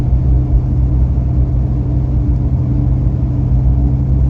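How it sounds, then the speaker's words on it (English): Steady low road roar of a salt-belt truck with a Dana 60 front axle cruising at 40 mph on fresh wheel bearings and ball joints, a continuous dense hum and rumble of tires with no breaks and no talking. "All I can hear is tire noise now."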